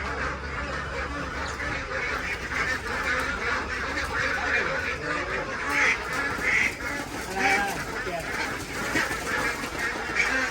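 A crowd of ducks, some large white ones among them, quacks loudly and constantly at a Thai farm, overlapping calls forming a busy chorus close at hand, with little talk.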